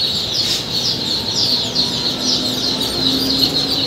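Peking ducklings packed in crates for delivery at a duck farm, a dense chorus of high, overlapping peeping calls going on without a break, close and loud, with no talk.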